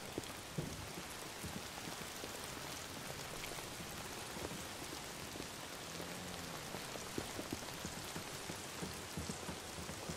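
Steady rain falling in Days Gone, a dense continuous hiss of raindrops on surfaces, loud and close with scattered heavier drips throughout.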